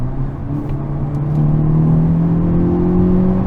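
A 2022 Hyundai Elantra N pulls hard under acceleration, its engine note a loud, steady drone that climbs gradually in pitch with no clear break between gears.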